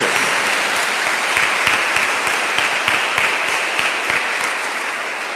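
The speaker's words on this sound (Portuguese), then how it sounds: "Vamos dar uma salva de palmas para os nossos seminaristas." A church congregation applauds seminarians during Mass, loud, close, steady hand clapping with individual claps standing out, sustained throughout and easing off slightly at the end.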